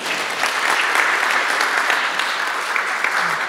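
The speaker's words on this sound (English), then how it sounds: "A round of applause for Daniel." Audience applauds after a conference presentation, a dense, steady burst of clapping that holds at an even level throughout.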